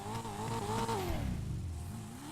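A turbocharged car engine in the video game GTA 5 revs up in pitch and then winds down, a smooth continuous whine, loud and close, with no voices.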